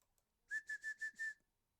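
A person whistles five short, even notes in quick succession on a single steady pitch, clear and close in an otherwise quiet room.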